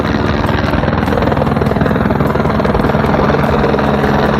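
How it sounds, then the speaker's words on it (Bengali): A helicopter arriving to land at the Kedarnath helipad in the Himalayas, a loud, close, steady rotor thump with a fast rhythmic chop and heavy engine drone throughout, no talk. "এই যে দেখা যাচ্ছে হেলিকপ্টার চলে আসছে,"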